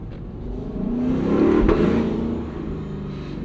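A 2024 Lexus LC 500 V8 convertible accelerates, its engine note swelling into a rich rising growl that peaks midway and then eases off, heard close and alone without talk.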